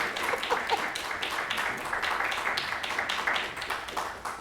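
Applause from an audience at a school board meeting, a steady dense patter of many hands clapping that continues evenly throughout, moderately loud and fairly near.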